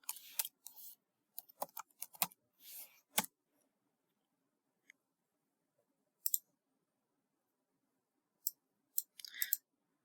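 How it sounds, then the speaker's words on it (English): Keys tapped on a computer keyboard while entering a localhost phpMyAdmin web address, short quiet clusters of clicks separated by long silent gaps, close and isolated. "I'm going to type /phpmyadmin."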